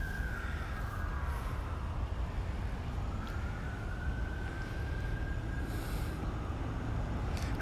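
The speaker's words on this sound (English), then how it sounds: "And you can hear the train. Here's the train." A train passes near the Malbone Street wreck site in Brooklyn, a steady rumbling roar with a long wavering metallic squeal of wheels on rails, heard from moderately far off.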